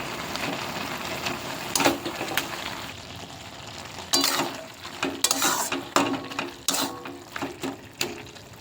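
Pumpkin greens with ginger-mustard paste fry in a pan under a close, busy crackle, with repeated scraping strokes of a spatula stirring at an uneven rhythm and a few metallic clinks, no voices.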